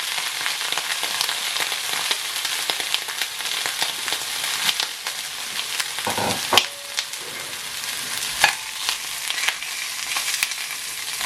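Italian sausages fry in a pan with a continuous close sizzle and spatter, broken by a few stirring clatters and pops partway through; no talking.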